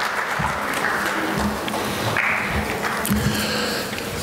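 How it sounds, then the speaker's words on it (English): Soft, diffuse audience applause for students at a high school honors ceremony, a steady wash of many clapping hands heard from a distance throughout. "Could you give all of these students a big round of applause?"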